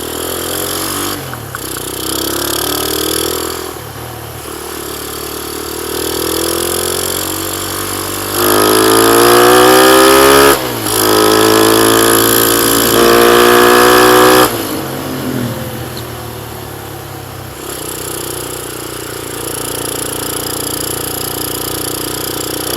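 A Honda C70 motorcycle fitted with a Suzuki Satria FU150 engine idles, then revs hard in several loud rising bursts. The bursts fall back between throttle blips, close to the listener, with no talk.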